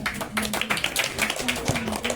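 Audience at a coaching class's Gandhi Jayanti celebration clapping for a young student who gave a Hindi Day speech, a brief burst of close, uneven hand claps with a background voice.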